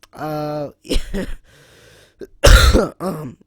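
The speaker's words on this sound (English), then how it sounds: "sorry if I was coughing in the microphone" A person coughs and clears their throat several times in short, close bursts separated by brief pauses.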